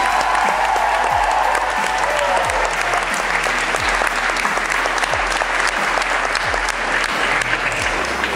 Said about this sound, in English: will you please give them a final round of applause before getting out.